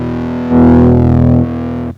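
An electric guitar played through a homemade distortion pedal, a loud sustained fuzzy distorted chord that swells louder midway, then drops back and rings out near the end.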